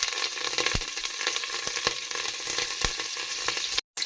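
Curry leaves and sprouted horse gram sizzle in hot oil, a steady crackling hiss with occasional sharper pops and a brief cut-out near the end.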